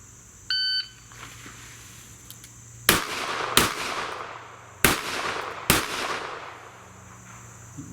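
A shot timer gives a short electronic beep. A few seconds later a Kimber K6s revolver fires four loud shots in two quick pairs. The shots are close and sharp, with short echoes and no voices.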